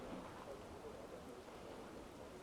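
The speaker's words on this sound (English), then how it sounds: "It's a rainy day and it's a nasty day." Rain in the medieval city-building game Manor Lords, a faint, even hiss of falling rain with a soft low rumble underneath, steady and unbroken throughout.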